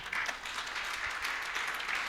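A church congregation at a Sunday evening service claps in a continuous, dense round of applause, even and moderately distant, with no speech standing out.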